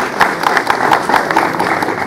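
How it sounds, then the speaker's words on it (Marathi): An audience at a public gathering in Jalgaon, Maharashtra claps to congratulate vaccination workers. The sound is a brisk, steady burst of many hands clapping nearby, with faint crowd murmur underneath. "त्यासाठी त्यांच्या टाळ्या वाजून सगळ्यांनी जोरात अभिनंदन केलं"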